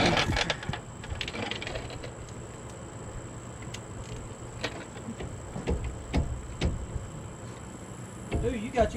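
A ratchet working on the brakes of a 2015 Chevrolet Silverado gives scattered mechanical clicks and clatter in a garage, with people talking at times.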